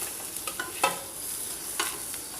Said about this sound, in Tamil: அதுலேயே இந்த பூண்டு, ஆனியன், கேரட் இதெல்லாம் போட்டு நல்லா வதக்கிக்கலாங்க